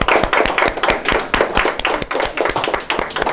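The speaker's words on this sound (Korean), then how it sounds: "우리 하나님께 영광의 박수 돌려드리겠습니다." Congregation clapping together in church, loud and close with a strong, regular rhythmic beat of many hands striking in unison.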